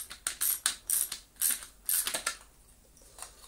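A socket wrench with a 40mm bit tightening a nut on the shaft of a Miele Complete C3 Extreme Powerline vacuum cleaner under repair, giving a run of close, crisp ratcheting clicks in short regular bursts that fade out near the end.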